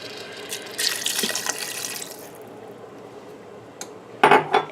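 Water poured into an Instant Pot holding shrimp and vegetables, a short splashing rush followed by quieter trickling, then a brief louder burst near the end.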